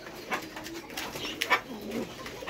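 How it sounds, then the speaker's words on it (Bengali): Fantail pigeons at a bird market give soft, repeated throaty coos at close range, with faint background murmur and no clear talk. "এটা ময়ূর কবুতর"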